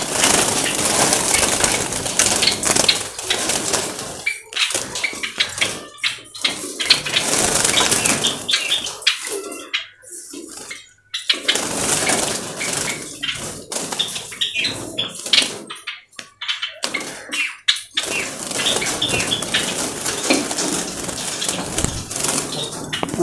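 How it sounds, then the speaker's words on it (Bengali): Java sparrows in a cage flutter loudly and in bursts as they are caught by hand, with rapid wing flapping and scrabbling close by and short lulls between. "দেখো আমি দুটো পাখি ধরছি"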